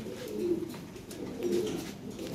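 Lahore siraji pigeons coo softly in two low, rolling phrases, close by and alone.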